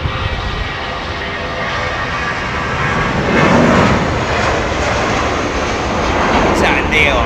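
An Airbus A330-200 airliner at London Heathrow roars steadily, its broad engine rumble swelling slightly midway, close and loud, with people talking over it.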